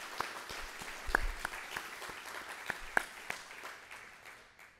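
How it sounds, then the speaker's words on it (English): At a planning meeting, an audience gives the steering committee a modest round of applause, heard as soft scattered clapping with a few sharper claps, fading toward the end. "Can I have a round of applause for everybody on the steering committee?"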